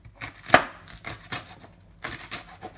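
A knife chopping cauliflower on a cutting board, a quick run of about six crisp thuds in an uneven rhythm, close and clear, with no voices.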